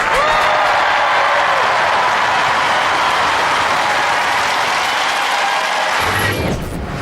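A large arena crowd at a Robot Wars robot-combat championship cheers and applauds loudly and steadily, a dense roar that holds for about six seconds before dropping off near the end.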